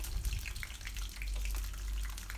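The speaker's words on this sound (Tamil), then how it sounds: "கடுகு நல்லா பொரிஞ்சதும் சின்ன வெங்காயம் சேர்த்துக்கோங்க." Small onions fry in hot oil with popped mustard seeds and fenugreek for a South Indian garlic kara kuzhambu, making a steady, close hiss of sizzling with light crackles and no talk.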